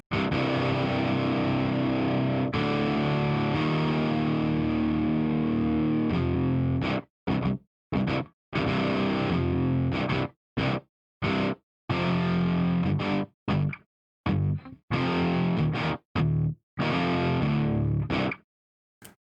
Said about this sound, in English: So that's a power chord right there.